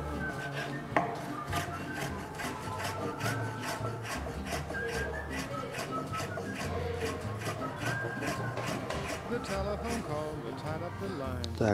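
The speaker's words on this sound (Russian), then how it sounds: "берем грибы, нарезаем" Mushrooms being sliced with a knife on a board in a home kitchen, a rapid series of soft, rhythmic chopping taps, close and quiet, with a person talking over them.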